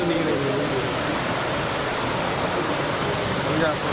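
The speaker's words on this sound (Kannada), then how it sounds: "ಇವತ್ತು ಮಳೆ ಸಿಕ್ಕಾಪಟ್ಟೆ ಸುರಿತಾ ಇದೆ" Heavy rain pours at a flooded railway station in Vijayapura, a loud broadband roar that stays steady for the whole stretch.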